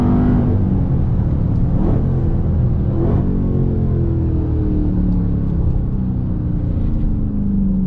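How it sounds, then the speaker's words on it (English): A modified Dodge Hellcat Charger with stage kits accelerating hard, a loud sustained close engine roar with rising and falling pitch as the transmission shifts through gears. "The transmission shifting is crazy."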